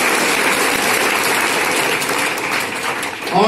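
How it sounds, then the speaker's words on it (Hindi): Loud, dense applause from an audience filling the venue at a public event with a chief guest, a sustained clapping roar for the organizing team that holds steady for the full stretch and swells slightly at the end. "सारी टीम के लिए एक बार जोरदार तालियां बजा दीजिए"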